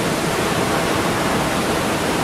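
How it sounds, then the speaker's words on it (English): A major waterfall in Lava Valley on Molokai, Hawaii, roaring as a steady, dense broadband rush that stays loud and unbroken throughout, with no voices. "It's a major waterfall."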